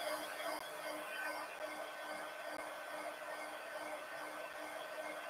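Hair dryer blowing to dry ink on a journal page, a steady, fairly faint whooshing drone with no pauses throughout.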